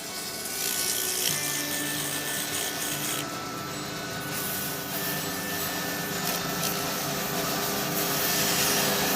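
A heavy-duty wood lathe with a bigger motor runs steadily in a workshop, giving a constant whirring hum with faint scraping and rubbing layered on top.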